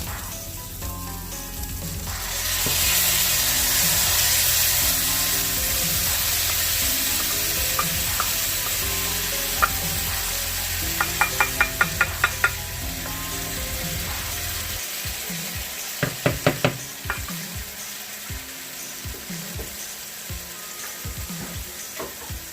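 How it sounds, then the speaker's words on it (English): Mushrooms sizzling and frying in a pan as brown gravy is poured in, a loud steady hiss that settles, followed by a run of sharp clicking, scraping utensil taps against the pan. "Now let's go ahead and add some of this gravy."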